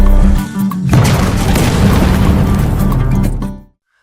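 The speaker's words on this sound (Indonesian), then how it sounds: "Namun ledakan itu tidak mempan." A loud, deep explosion of traps set around a house in a monster crocodile film booms and rolls into a long rumbling roar that fades out abruptly.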